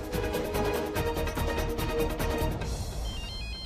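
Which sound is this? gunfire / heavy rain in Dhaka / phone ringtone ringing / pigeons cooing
phone ringtone ringing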